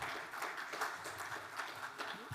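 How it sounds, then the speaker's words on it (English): Audience at a fireside-chat conference session applauds briefly, an even patter of clapping at moderate distance for a couple of seconds. "let's give a big round of applause"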